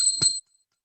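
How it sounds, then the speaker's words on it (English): A ritual bell rings once during a lamp offering to the goddess, a bright metallic ding that rings out sharply and fades quickly into silence. "please ring the bell as you do so"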